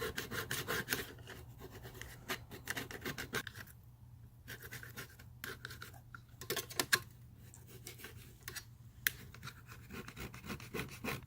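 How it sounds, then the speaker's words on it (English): A safety scraper scrapes loosened caulking off a bus window frame in repeated close, rasping strokes that come in bursts with short pauses between them and no talking. "take the safety scraper, and just scrape off the rest that I've gotten loose"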